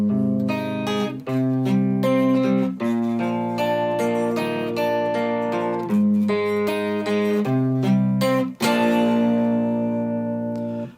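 A clean electric guitar plays a melodic line from a song in single notes and short chords, bright and undistorted, ringing clearly with no voices.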